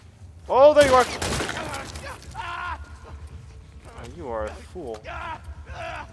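Gunfire in The Last of Us Part 2, shots fired through a wall in a close, loud burst at the start that tails into someone talking over the fading noise.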